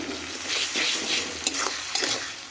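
Grated tomato frying with salt and spices in a pan, a loud sizzle broken by repeated scraping stirs and a couple of sharp utensil knocks against the metal, close and without talk.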